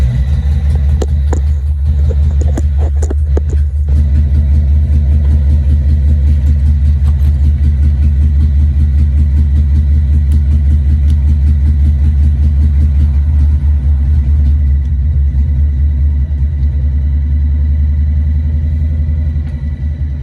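A motorbike engine running close by, a loud and steady low rumble with an even pulsing throb that goes on throughout, a few brief clicks early on and no talk.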